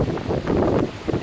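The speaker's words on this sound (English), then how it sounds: "So that's why you hear all the wind and everything." Strong wind blusters across an open area next to an airport, a loud rough rumbling buffet on the microphone that swells and dips without pause through the short stretch.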